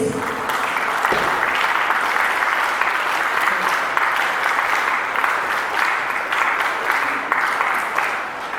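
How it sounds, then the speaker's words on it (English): An audience at a school investiture ceremony for Tilak Jayanti gives students a big round of applause, a loud, continuous wash of clapping that holds steady for several seconds, with faint voices mixed in. "give them a big round of applause"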